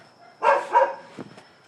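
Dogs bark twice in quick succession at moderate distance, followed by a few fainter yips.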